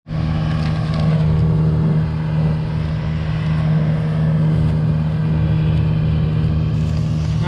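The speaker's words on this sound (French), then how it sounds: "le camion est là, en train de décharger" A truck unloading freshly harvested barley at the field's edge during harvest, a steady loud diesel engine drone with a deep constant hum running throughout, no voices.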